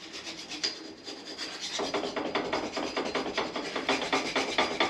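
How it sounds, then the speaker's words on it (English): A hand file rasps across the face of a metal axle to clear burrs, quiet at first and then settling into steady back-and-forth strokes in a regular rhythm, close up with no talking. "Quick file up on the face, make sure it's all clean, no burrs, no damage."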